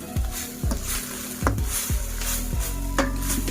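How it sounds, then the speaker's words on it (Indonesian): A spatula stirs an Aceh-style anchovy stir-fry in a hot pan, giving repeated loud scraping strokes over a continuous close sizzle, with no talking. "Kemudian kita aduk-aduk lagi"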